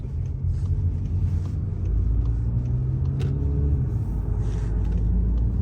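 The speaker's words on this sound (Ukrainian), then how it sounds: "Дуже подобається, як цей автомобіль набирає швидкість, 190 коней під капотом дають про себе знати." Volkswagen Passat B8 with a 190-horsepower engine accelerating, heard from inside as a steady low rumble with road noise and a slight rise in intensity, no talking.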